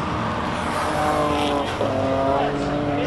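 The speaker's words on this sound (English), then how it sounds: "Next up, it's Darren Goodman's, the GTR R32." Nissan GTR R32 race car at a hillclimb, its engine roaring loudly and continuously as it drives past, with a brief dip midway, while a commentator speaks over it.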